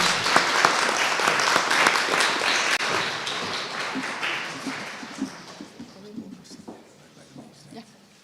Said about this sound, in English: Please welcome with applause Monta Brīvība.